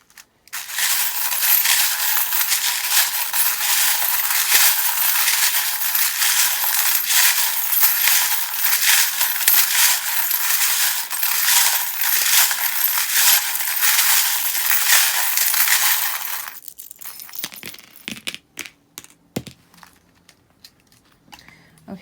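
Loud, dense shuffling clatter of many small metal charms clinking continuously during a tarot-style reading, then stopping abruptly into a few scattered clicks and light handling noises.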